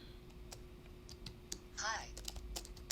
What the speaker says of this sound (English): I'm just gonna write a couple of stuff to make it make sense on the physical keyboard here.